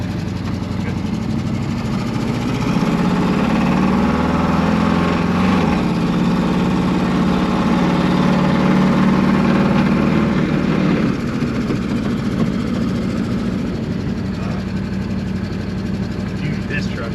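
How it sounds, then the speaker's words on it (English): Old truck engine running with an exhaust leak, a loud, steady rumble that shifts slightly partway through, with people talking over it. "Good old exhaust leak still there"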